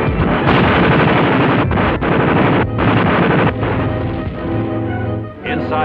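Gunfire rages during the WWII attack on Manila's Bilibid prison: a dense, loud, continuous roar of shots and bursts with brief dips, mixed with wind-like rumble.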